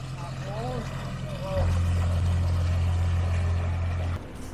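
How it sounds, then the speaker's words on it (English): A canal boat's low, steady engine drone chugs along a reed-lined canal, growing louder midway and holding close before cutting off near the end, with voices talking over the start. "every now and again, you come to a little gap in the reeds and you can spot a canal boat going through."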